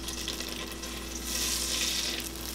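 Onions cooking in melted butter in a pot give a steady, soft sizzle with a faint hissing crackle that swells slightly midway, continuous and fairly quiet with no talking.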